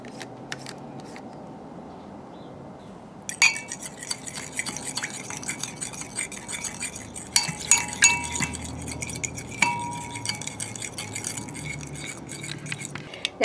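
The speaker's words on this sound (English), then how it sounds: "I'll whisk these all together until they're blended" A whisk stirs barbecue sauce ingredients together in a bowl for a mashed potato and burger pie, giving a steady scraping swish with scattered light clinks, close and alone without talk.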